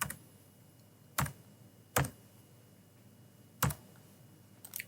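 Sparse, separate clicks of a computer keyboard as a CAPTCHA code is typed in, with four or five distinct keystrokes spaced about a second apart against a faint, quiet room background.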